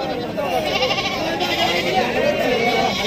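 Goats bleating amid the crowd at the Sangola goat and sheep market, with animal calls rising over a continuous wash of market chatter and nearby voices.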